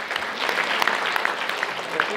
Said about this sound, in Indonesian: Mohon beri tepuk tangan untuk dokter dulu.